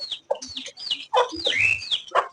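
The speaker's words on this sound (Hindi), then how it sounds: "ये हमारी मुर्गी और ये मुर्गा" Farmyard chickens, hens and a rooster, clucking and squawking close by in a quick series of sharp, rising calls with short pauses between them.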